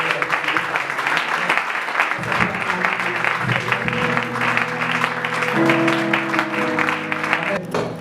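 Church audience at a youth evangelism conference clapping and cheering in acclaim, steady sustained applause mixed with voices and held musical tones underneath, lasting throughout.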